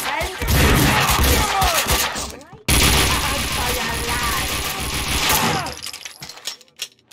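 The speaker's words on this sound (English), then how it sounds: "Someone must have heard the gunfire." Gunfire in the video game Max Payne 2 bursts out in rapid, dense volleys with clattering mechanical and shattering impacts, loud and continuous, briefly cut off before resuming and then thinning into scattered shots.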